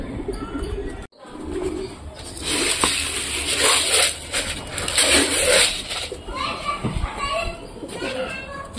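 Pigeons coo softly amid a bustle of wing flutters and pecking, with children's voices and street noise around them.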